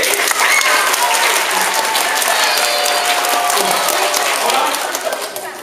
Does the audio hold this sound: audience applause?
yes